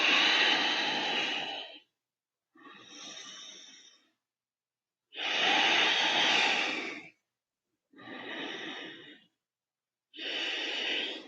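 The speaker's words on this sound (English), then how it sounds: "Breathe in, breathe out." Slow yoga breathing during a beginner flow class, heard as five long, loud breaths alternating inhale and exhale, each about two seconds, separated by brief silences.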